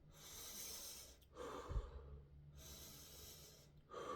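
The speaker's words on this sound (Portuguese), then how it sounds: "eu acabei de fazer barulho respirando" Loud breathing through the nose, close to the microphone: slow, hissing inhales and exhales alternating in a steady rhythm, with one brief snort, in a quiet room with no talking.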